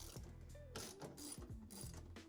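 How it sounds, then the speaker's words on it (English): A ratchet wrench with a 10mm socket loosening bolts on an LG washer tub's counterweight, giving several bursts of quick mechanical clicking, close and fairly quiet, with no voices. "We're grabbing our 10mm socket and removing the bolts."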